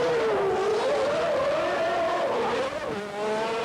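A 1991 Formula 1 car pulls away after a pit stop with a loud, continuous high engine whine that rises and falls in pitch, dipping briefly near the end.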